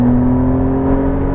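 McLaren Artura engine pulling hard with steady whirring drone, loud and close, holding a strong sustained tone with a slight rise across the brief stretch.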